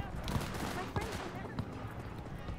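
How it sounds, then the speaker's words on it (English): Video game gunfire in a night city, heard as a few scattered sharp shots at about 0.4, 1.0 and 1.6 seconds. They sit over a steady busy game soundscape with a continuous background bed. "Where's this gunfire coming from?"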